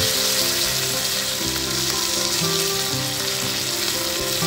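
Mustard seeds and bitter gourd fry in about a spoonful of hot oil in a Goan home kitchen, giving a steady, dense sizzle with faint crackles throughout.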